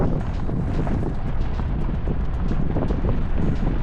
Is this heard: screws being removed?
no